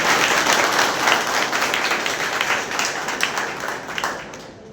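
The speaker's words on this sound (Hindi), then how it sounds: "जोरदार तालियों के साथ में" Steady, dense clapping from a large audience at a small classroom celebration, loud and continuous throughout with no voices standing out.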